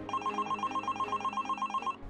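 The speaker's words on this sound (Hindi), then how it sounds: "तभी एक दिन उनके घर पे एक फोन आता है।" A telephone rings at home with a steady, rapid electronic trill that repeats evenly and stays loud and clear, with no voices.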